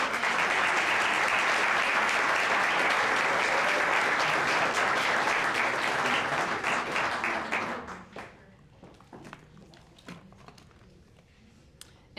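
Loud, dense applause from a gala dinner audience after the evening's final speech, steady for about eight seconds before tapering into a few scattered claps.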